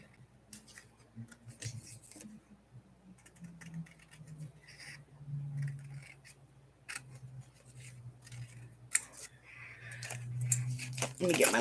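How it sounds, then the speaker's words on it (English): Small scissors snip paper house banners in short, quiet cuts with soft rustling of paper, while a person talks through much of it. "I'm going to cut some house banners."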